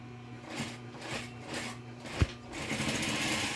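A sewing machine stitches fabric for a multipurpose pencil case, its motor and needle giving a steady, close mechanical chatter with a rhythmic pulse. There is a sharp knock midway, and the stitching runs faster at the end.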